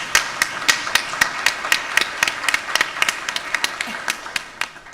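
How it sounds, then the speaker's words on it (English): Steady, fairly regular clapping from a small group, each clap sharp and distinct, carrying on evenly before fading slightly toward the end. "So give Jose Centron a round of applause for his leadership."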